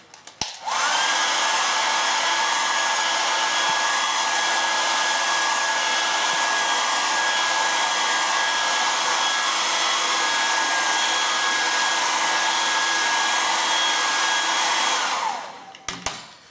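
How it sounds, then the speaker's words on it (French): A hair dryer blows on a chocolate mould to warm it, giving a steady, loud, high whirring hum that switches on, holds for about fifteen seconds, then cuts off, with no talking. "il vous suffit tout simplement de le réchauffer avec le sèche-cheveux comme ceci"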